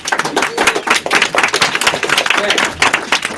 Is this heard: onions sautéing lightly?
no